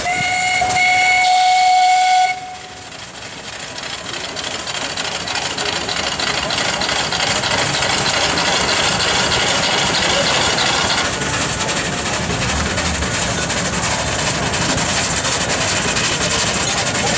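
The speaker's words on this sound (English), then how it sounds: "Listen to the sound of these steam engines." A shrill steam fire engine whistle sounds for a couple of seconds, then cuts off into a steady, loud hiss of steam with engine rumble and faint voices nearby, at a San Francisco Fire Department celebration.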